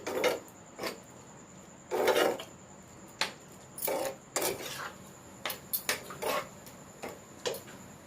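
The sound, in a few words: boiled vegetables being stirred and sautéed in masala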